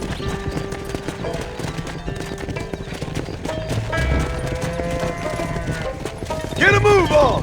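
Hooves of a herd of horses beat in a steady clip-clop gallop in the Red Dead Redemption video game, with whinnies, game music and a voice urging them on over the hoofbeats.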